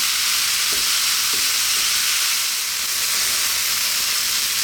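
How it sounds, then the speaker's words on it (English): Pork fried rice sizzling in a pan over high heat, a steady loud hiss and crackle of frying throughout, with faint scrape-and-stir knocks as the rice is kept moving. "fry this rice now for 4 to 5 minutes, high heat. Keep it moving."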